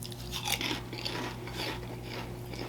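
Crunchy Lays Dorito Cheeto Funyun mashup chips bitten and chewed up close, repeated loud crunches over a few seconds, with no talking.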